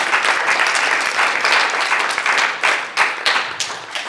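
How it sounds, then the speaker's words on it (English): An audience at a community health study meeting bursts into loud, dense clapping that holds steady, then thins into scattered claps near the end. "Applause is welcome, please."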